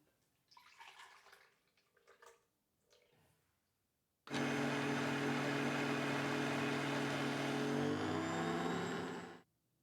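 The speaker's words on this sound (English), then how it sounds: "The OmniBlend can whip cream." After some quiet handling clatter, an OmniBlend kitchen blender motor whipping cream kicks in and runs loud and steady for about five seconds before winding down.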